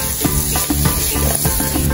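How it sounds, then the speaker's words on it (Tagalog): Red onion and garlic sautéing in a pan, being stirred as they cook: loud continuous sizzle with repeated scraping stir strokes, up close and with no talking. "Igisa na natin ng red onion. Next naman, lagay na natin ng garlic."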